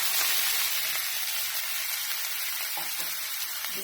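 Sautéed onions sizzle in a pan for paneer masala, a dense, even frying hiss that runs throughout with a few faint stirring clicks and no voices.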